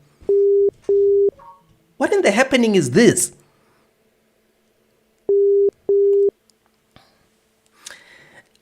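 A phone line returns a busy signal: two pairs of short, steady beeps separated by a long gap, loud and close, with a man's exasperated speech between them.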